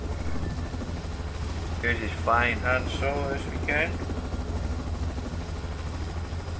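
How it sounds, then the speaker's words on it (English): A helicopter in the Splinter Cell Blacklist multiplayer game gives a steady, loud rotor-and-engine drone that runs through the whole stretch, with someone talking over the middle part. "I can send a chopper for you"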